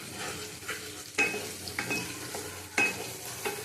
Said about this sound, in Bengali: এবার পটলের সাথে সব মিশিয়ে দেবো